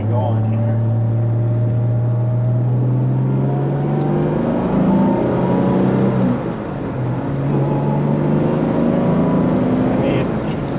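A 1968 Jaguar E-Type Series 1.5 coupe drives along a road, its engine a loud, steady drone whose pitch rises and falls as it accelerates and shifts throughout.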